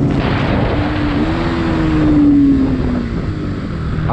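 A Bajaj Pulsar NS 200 FI motorcycle (2022, fuel-injected) rides at speed, its engine drone rising steadily in pitch over about four seconds, loud and close amid heavy wind rush, with no talking.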